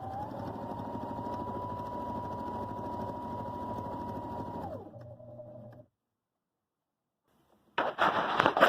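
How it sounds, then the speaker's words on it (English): Sewing machine running steadily at full speed while hemming a fabric face mask strap, a close whirring drone for about five seconds that winds down and stops, followed by silence and then a burst of handling noise. "we're going to take this over to the sewing machine, and we're going to sew this in here"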